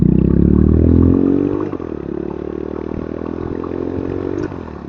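A Honda CB350 motorcycle engine revs hard and accelerates, a loud, close, rough mid-pitched roar that drops slightly after a second and then holds a steady pull with some mechanical clatter, with no voices.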